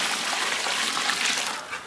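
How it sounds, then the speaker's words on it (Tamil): Water poured into a cooking pot for vegetable biryani, a steady hissing splash lasting a couple of seconds and tapering off at the end. "7 படிக்கு 10 லிட்டர் தண்ணி ஊற்றிடும்"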